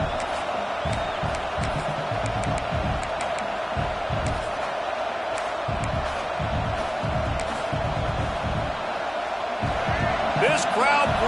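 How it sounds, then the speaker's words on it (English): A large football stadium crowd at a Texas A&M game roars steadily and loudly, a dense wash of cheering with voices mixed in throughout. "This crowd bringing the energy and noise early."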